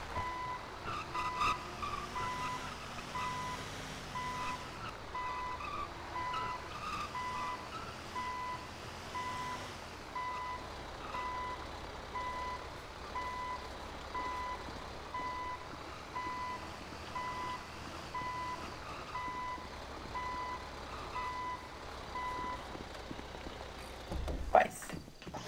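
Tow truck backing up in GTA V, steady electronic reversing beeps repeating throughout over engine rumble and game sounds, with a person talking over it.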